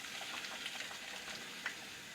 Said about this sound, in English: I'm going to drop these tomatoes one by one into boiling water